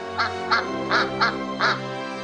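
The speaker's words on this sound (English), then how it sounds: "a baby duck came out of its shell" A story sound effect of a duck quacking has about five distinct, nasal quacks in an uneven rhythm, loud and close over a faint background hum.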